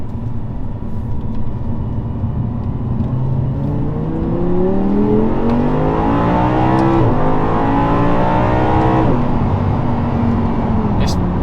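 A supercar engine accelerates hard while driving, its note swelling and rising steadily in pitch through a gear before easing off, loud and close, with no voices over it.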